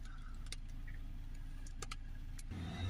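A Ford Transit with an exhaust aftertreatment vaporizer glow plug fault idling quietly, a faint low steady hum with soft ticking clicks scattered over it and a slightly louder low rise at the end.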